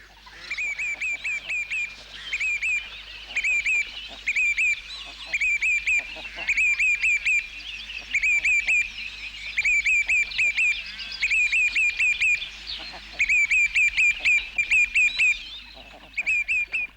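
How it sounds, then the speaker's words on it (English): A group of ducks calls in quick repeated bursts of honking quacks, steady and fairly close, in a quiet outdoor setting on a Hebridean island with crofts and wetland birds. "Today, however, on Gullar, the mallard is allowed to multiply in peace"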